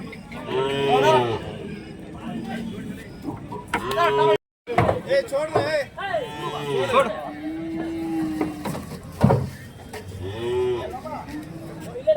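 Cattle moo repeatedly at the Kundarapalli Friday cow market in Krishnagiri district, Tamil Nadu, loud nearby calls overlapping amid busy crowd chatter and voices throughout.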